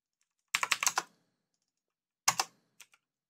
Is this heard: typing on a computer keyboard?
yes